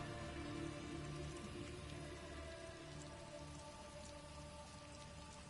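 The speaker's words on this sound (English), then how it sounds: "I could do without this damnable rain. It's been storming since we arrived," Steady, dense rain falls in a stormy outdoor scene in the video game Elder Scrolls Online, a constant soft hiss of drops at low volume with no voices.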